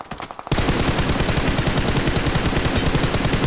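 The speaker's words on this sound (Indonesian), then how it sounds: "Eh ada yang nembakin temennya" Rapid automatic gunfire in a battle-royale shooter video game, a loud continuous burst of close shots in fast rhythm that starts abruptly after a brief quieter moment and runs to the end.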